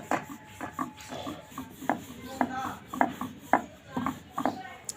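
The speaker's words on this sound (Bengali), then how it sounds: "এবার খুব সুন্দর করে বেলে নেব" Roomali roti dough being rolled out with a rolling pin on a board, a regular series of soft knocks and rubbing strokes, close and fairly quiet.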